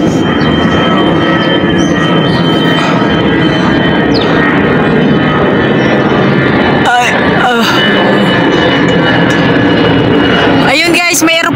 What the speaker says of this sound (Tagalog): Dito po dumadaan sa tapat ng garden ko. Kaya po maingay ang eroplanong yan.